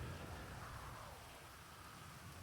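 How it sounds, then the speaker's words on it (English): Heavy rain pours down in a steady, dense hiss with a low rumble beneath, constant throughout and without pauses. "the rain is so loud"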